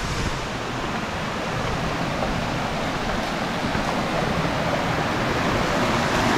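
Strong, fast-flowing water pours down Salad Dai waterfall at Khao Hua Muak in Thailand, heard as a steady, loud, broadband roar that fills the whole clip with no voices.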